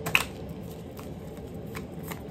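Soft papery riffling of tarot cards being shuffled, a few quick flicks and shuffles close by, fairly quiet with no talking.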